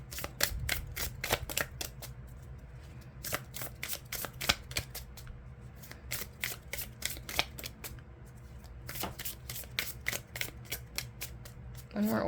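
Oracle cards are shuffled close up in rapid riffling bursts, crisp repeated flutters with short pauses between rounds, while a person talks softly underneath.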